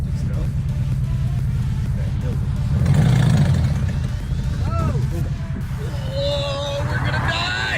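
A Subaru engine with a massive exhaust leak revs under acceleration, a loud low rumbling drone with rising surges, while people talk over it.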